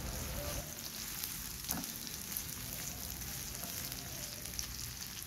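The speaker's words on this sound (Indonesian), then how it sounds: "ini kita goreng sampai sedikit agak layu" Sliced seasoning spices frying in a pan alongside anchovies and stink beans, a steady close sizzle running throughout with one brief clatter of stirring partway through.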